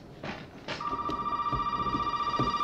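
A telephone rings in the horror game Resident Evil 7, starting after a few footsteps or bumps and settling into a loud, steady electronic trill close by, with no talk.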